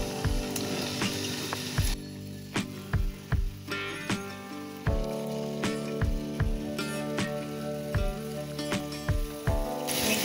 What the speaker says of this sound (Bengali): এটার ভিতরে আমি লবণ আর হলুদ দিয়ে যে আলুটা মেখে রেখেছিলাম এটা একটু ভেজে নেব।